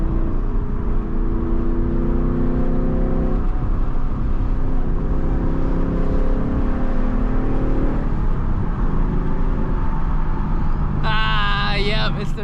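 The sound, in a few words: 2024 Mustang GT engine and H-pipe exhaust revving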